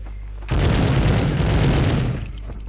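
Enemy gunfire in the video game Medal of Honor comes as a sudden heavy boom that swells into a sustained loud roar of blasts for about a second and a half before fading.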